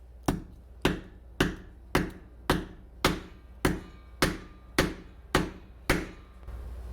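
A hammer strikes a 3D-printed atlatl part eleven times in an even, steady rhythm, each blow a sharp, close, loud knock with a short decay.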